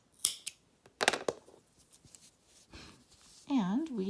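Scissors snip the trimmed yarn end of finished crochet work: a sharp cut near the start and a louder double snip about a second later, close and crisp, followed by quiet handling and a brief voice at the end.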